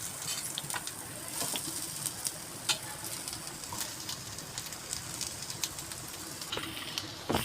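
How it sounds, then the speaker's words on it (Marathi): Onion roasts in a pan just used for toasting coconut, for a fish curry, giving a soft, continuous crackling sizzle with occasional sharper ticks and scrapes of stirring, steady and moderately close throughout. "आता त्यामध्ये मी कांदा भाजायला घेते"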